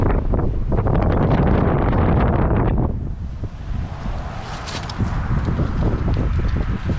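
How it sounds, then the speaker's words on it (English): Strong wind roars and buffets the microphone continuously outdoors on a snowy trap line, a loud, rough rumble that eases slightly midway before gusting up again. "It is really windy right here"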